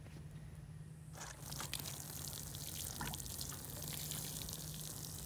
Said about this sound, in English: I'm just watering everything in real good.